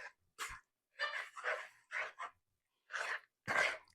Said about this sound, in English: now she wants to bark to come inside, but she's just going to get to bark